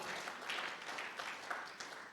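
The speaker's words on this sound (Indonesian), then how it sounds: "Berikan tepuk tangan." Church congregation at a Sunday worship service applauds softly and at a distance, a quiet, uneven patter of clapping with slight swells, lasting about two seconds.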